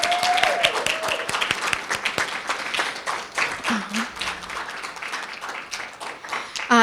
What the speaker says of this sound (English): Let's give another round of applause for everybody and Betsy.